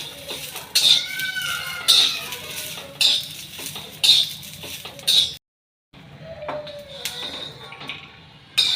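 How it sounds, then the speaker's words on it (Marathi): Peanuts roasting in a pan rattle and scrape against the metal in a steady series of bright, close strokes, pausing briefly before resuming. "शेंगदाणे पण भाजून घ्यायचे आहे."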